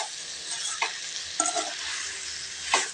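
Boneless goat head meat fries in a spicy masala, giving a constant close sizzle with three distinct scrapes as it is turned over in the pan.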